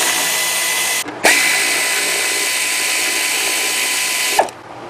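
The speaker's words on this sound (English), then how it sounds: "we're going to remove these two bolts holding the top shroud in" A powered ratchet whirs loudly and steadily while removing bolts from the top fan shroud during a Gates water pump installation. It runs in two long continuous bursts with a brief pause between them, close up.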